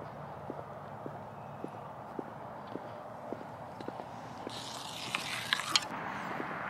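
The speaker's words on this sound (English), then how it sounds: "Ooh, more horses." Horses at a rescue ranch walking with steady, fairly faint hoof clops on a hard surface, a regular plodding rhythm over a quiet outdoor background, with a brief brighter rattle near the end.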